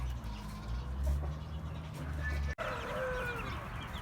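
Chickens in a backyard coop cluck and call continuously at close range, with scattered higher calls and a brief sharp drop in the sound midway.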